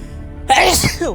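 One loud, close sneeze from a voice actor, breaking out suddenly after a short quiet lead-in.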